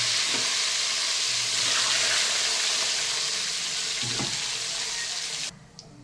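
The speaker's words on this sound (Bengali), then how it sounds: "আমার তেলটা কিন্তু গরম হয়ে গেছে, আমি ডিমটা একটু হালকা করে ভেজে নেব" Boiled eggs fry lightly in hot oil, giving a steady, close sizzle with faint bubbling crackle; the sizzle runs continuously and then drops off sharply near the end.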